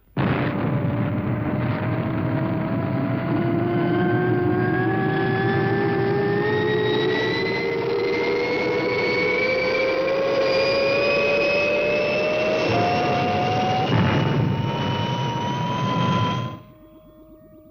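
The Fireball XL5 rocket from the 1962 TV series takes off with a loud, continuous roaring blast and a steadily rising engine whine that holds for about sixteen seconds before cutting off abruptly.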